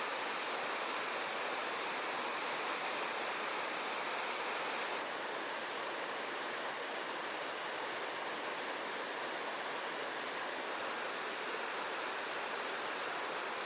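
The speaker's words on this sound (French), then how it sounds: "l'eau faisait du bruit" A river flows along a shaded bank on a mountain trek, making a steady, even wash of rushing water that holds constant throughout with no voices.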